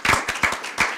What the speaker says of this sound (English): just a little round of applause for them at the beginning